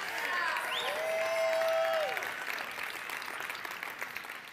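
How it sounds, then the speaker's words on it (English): Audience applause after a personal testimony talk, a soft, steady wash of clapping heard at a distance, with a whistle-like tone sliding over it near the start. "everyone give him a round of applause."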